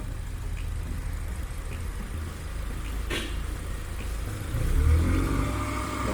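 An old car engine being cleaned with a carbon cleaner is revved steadily to about 2,000–3,000 RPM, a close, continuous engine drone that swells briefly louder near the end, with no talking.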